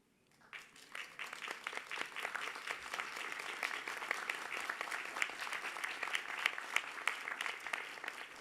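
Graduates at a university graduation ceremony applaud their supporters, clapping building quickly from silence into a steady, fairly distant round of applause that continues to the end.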